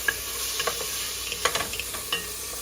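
Garlic being stirred in a frying pan, a soft steady sizzle broken by quick light scrapes of a spoon against the pan, close and without speech.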